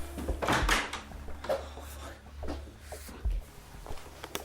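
An old hall door knocks and bangs in several irregular thuds and creaks, fairly close, amid quiet room noise.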